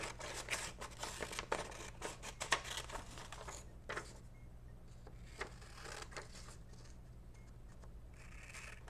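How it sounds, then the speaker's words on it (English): Paper being cut with scissors to trim out a shape, a run of close crisp snips and rustles that thin out after a few seconds into quieter, sparse crinkles over a low hum. "I'm going to cut this shape out."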